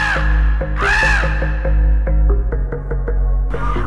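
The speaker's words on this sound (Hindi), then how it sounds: "कौआ काए काए कर रहा था।" A crow caws repeatedly in a children's animated forest tale, loud nasal calls in quick succession, close and clear with no talk over them.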